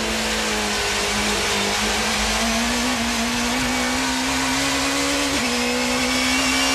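A 1990s touring car engine screams at a high, sustained pitch near the rev limit, then dips briefly at a gear change before climbing again, loud and dense, with no talk audible over it.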